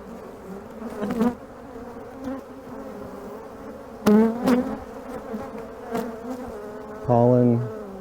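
Honeybees buzzing up close around an open hive during an inspection, a steady low hum broken by several louder, nearer buzzes as individual bees fly past.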